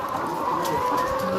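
Hens clucking inside a poultry house in Nagcarlan, Laguna, a steady close chorus of layer-hen clucks and chatter filling the space.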